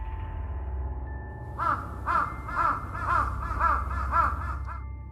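A bird calls at night on Mount Prau, giving six or seven loud, harsh caws in a steady rhythm over a low, constant background hum.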